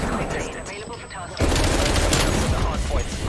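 FARA assault rifle firing in a first-person shooter game, with sustained rapid bursts that grow louder and denser partway through, close and dominant, while players talk over the shooting.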